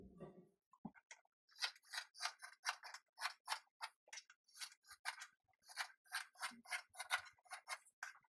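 Scissors cut fabric for a necktie: a close, steady run of about twenty crisp snips in an otherwise quiet room, each closing blade giving a sharp metallic click.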